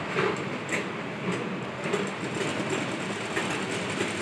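Sewing machine stitching tucks on a blouse, a steady, fast mechanical clatter at moderate level running unbroken throughout, with no voices.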